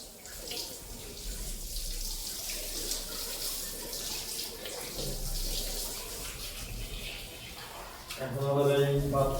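Water runs steadily from a tap while a house is being washed down before new tiles are laid, a continuous hissing splash that grows louder and more bubbling near the end.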